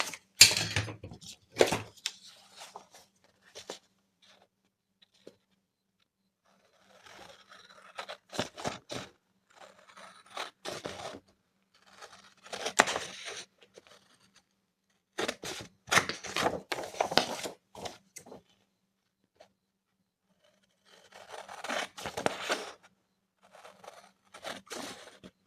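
Scissors snipping through paper cut from old book pages, heard as bursts of crisp cutting and rustling separated by quiet pauses, close and fairly soft.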